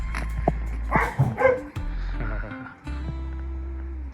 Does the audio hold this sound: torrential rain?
no